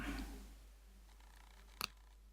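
Scissors snip once through a brown doily, a brief close double crunch in an otherwise quiet room.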